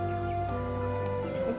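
A person imitates a chicken's clucking, a sustained, nasal, warbling vocal tone held for over a second, close and fairly loud.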